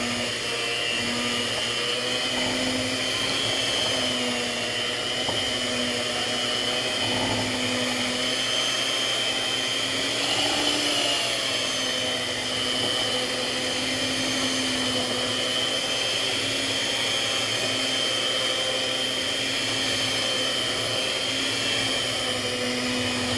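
An electric mixer whirs steadily, mixing recipe ingredients in a home kitchen, a continuous motor hum with a high whine that holds for the whole stretch with only slight shifts in pitch.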